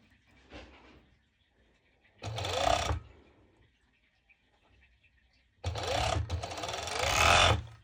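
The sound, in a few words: sewing machine stitching mesh shorts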